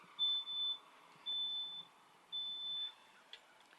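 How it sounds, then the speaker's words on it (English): A smoke alarm goes off with three evenly spaced, shrill electronic beeps, each lasting about half a second, sounding faint and somewhat distant over quiet room noise. "Can you still hear the smoke alarm going off?"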